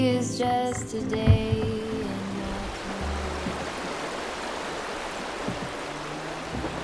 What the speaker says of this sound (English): The river downstream from Hay has many little riffles and mini rapids to keep you amused and interested.